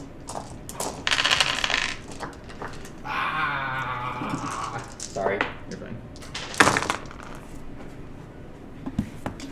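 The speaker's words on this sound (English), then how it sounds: "I thought I heard a dice hitting the ground." A die clatters onto the floor during a Warhammer 40K tabletop game, with sharp impacts and a brief rattling roll amid scattered table clatter and several people talking nearby.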